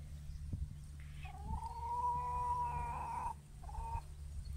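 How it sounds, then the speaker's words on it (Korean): A rooster on a countryside farm near Rome crows once in a long, wavering, slightly comic call, moderately near over a steady low hum, with a short extra note at the end. "주세페 대신 온 저 수탉 이름을 주세피누라고 불러야 되겠어요"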